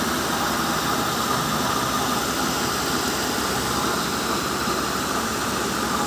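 A Mercedes-Benz engine idles smoothly and evenly, giving a constant close hum with a faint whine layered on top throughout. No one speaks.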